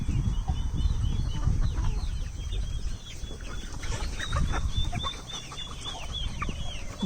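Backyard chickens clucking repeatedly at close range, soft irregular calls scattered over a low rumble of outdoor background noise.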